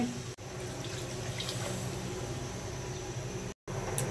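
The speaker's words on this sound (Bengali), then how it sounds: "সবজি মাছ কষে গেছে, এখন আমি পানি দিয়ে দিচ্ছি।" Water poured from a container into a pot of curry with fish and vegetables, a steady close splashing flow with a brief break near the end.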